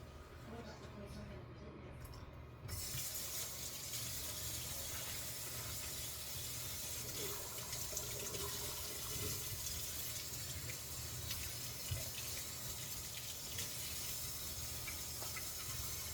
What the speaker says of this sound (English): It's running cold water with the hot so it doesn't burst the pipe.